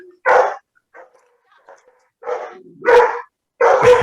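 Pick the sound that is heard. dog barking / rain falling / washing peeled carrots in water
dog barking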